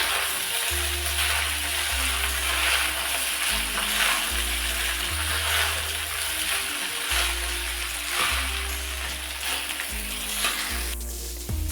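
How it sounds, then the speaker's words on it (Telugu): Chili paste mixture frying in oil over a low flame, a steady loud sizzle running throughout with repeated stirring scrapes and a low rhythmic hum beneath. "ఈ కలిపిన కారము మనం ఒక ఆయిల్లో ఫ్రై అవ్వాలన్నమాట"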